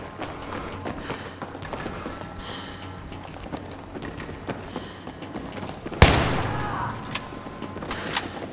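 Gunfire in Battlefield 3 rattles in scattered shots and short bursts under background game noise, with one sharp loud blast standing out partway through and a few fainter cracks after it.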